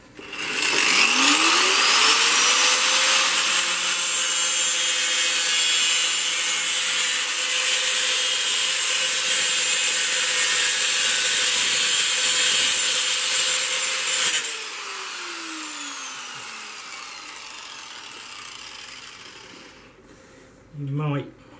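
A power saw or angle grinder cuts through an oversize metal venetian window blind in one long, loud, steady shrieking cut. It winds down and fades at the end.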